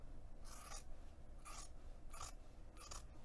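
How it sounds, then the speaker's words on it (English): Fabric for a bag with a fully enclosed recessed zipper is cut with scissors, giving four separate crisp snipping strokes at a steady pace, close and fairly quiet over faint background hiss, with no talk. "I'm going to use my scissors to just cut that 2-inch chunk off."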